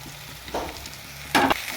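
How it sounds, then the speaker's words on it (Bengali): Ridge gourd, green chili and onion go into a pan of already frying mixed vegetables, giving a constant hiss of frying punctuated by two short, louder bursts of sizzling and stirring. "এবার আমি ঝিঙা, কাঁচা লঙ্কা, পেঁয়াজটা আমি দিয়ে দেবো এর মধ্যে।"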